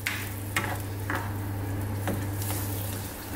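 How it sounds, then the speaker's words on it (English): A spoon stirs a creamy pasta sauce in a pan on medium heat, with several scraping strokes over a constant gentle bubbling sizzle, heard up close with no voices. "medium heat, stirring all the time"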